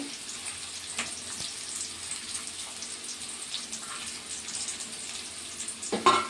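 Onions with a little salt frying in hot oil for ridge gourd curry, a steady faint sizzle running throughout with a few soft clinks near the end.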